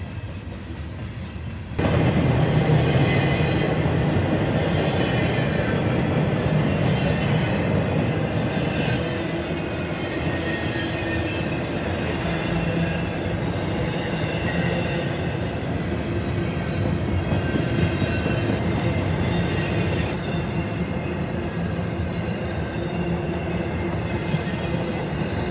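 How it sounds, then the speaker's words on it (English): A long northbound intermodal freight train with juice cars rolls steadily past nearby, with continuous rumbling, clattering wheels on rails and occasional faint squeals, no talking. "the northbound intermodal train was IO32 with its Tropicana juice cars"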